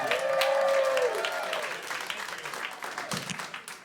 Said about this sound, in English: Put your hands together for Zivan Vasquez.